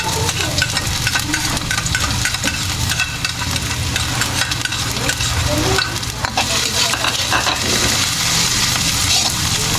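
Garlic and onion sauté in oil left over from frying pork leg (pata), giving a steady, close, dense sizzle with stirring scrapes throughout the clip. No one talks.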